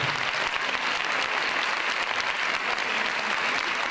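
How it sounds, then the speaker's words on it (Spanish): Audience applause at a children's choir Christmas event in a town venue, a thick, continuous wash of many hands clapping at full volume throughout. "Un aplauso muy fuerte para Ana María Mesa, Ana Pascardo y Margarit"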